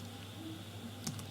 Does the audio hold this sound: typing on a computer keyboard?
yes